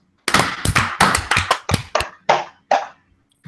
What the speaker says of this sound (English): Okay, so we're gonna clap here.